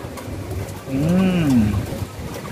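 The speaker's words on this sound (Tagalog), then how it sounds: "yung mga ibon natin, mga kalapatids" A single deep, rolling pigeon coo rises and falls clearly over faint background chatter and ambient noise.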